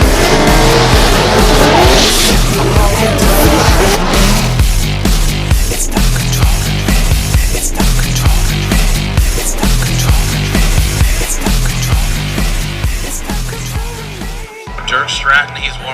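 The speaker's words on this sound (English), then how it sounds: "Dirk Stratton, he's warming up his tires in his Lingenfelter Stratton Chevrolet Corvette" A Lingenfelter Stratton Chevrolet Corvette drift car warms its tires, its engine roaring loud and close with repeated revs and long tire squeals. A commentator talks over the noise, and it drops off abruptly near the end.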